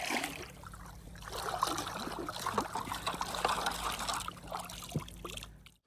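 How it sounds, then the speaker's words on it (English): A river runs over and around big rocks, trickling and gurgling steadily at moderate volume with small splashes, then stops abruptly at the end. "the river's running good right now"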